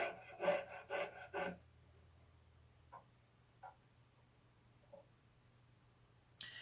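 A piercing saw frame cuts metal with a quick run of rasping up-and-down strokes up close, followed by quieter scattered scrapes and taps.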